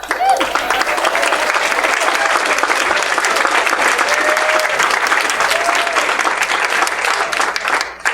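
Sustained audience applause at a candidate forum, a dense, steady wash of many hands clapping continuously throughout at even loudness, with faint voices mixed in.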